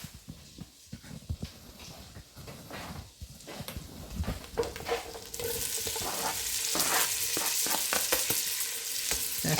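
Andouille and beef sausages hitting a hot pan for gumbo, soft stirring and scraping giving way to a steady, louder sizzle that fills the second half, close by with no talking.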